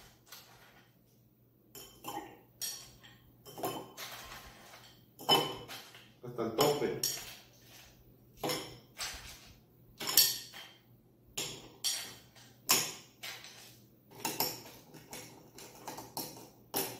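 Ice cubes are dropped and clinked into a glass while a strawberry drink is prepared, giving a series of sharp, close clatters and chinks spaced irregularly over a quiet background.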